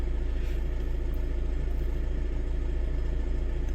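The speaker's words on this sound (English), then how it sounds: "you will hear the engine condition changes" Mitsubishi engine running steadily during an injector learning procedure, a loud constant low hum with faint mechanical clatter and no pauses.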